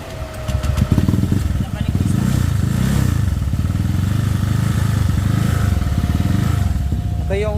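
A Click 200cc scooter engine with a dual radiator runs close by, a steady buzzing drone that lifts and falls as it revs, with someone talking over it.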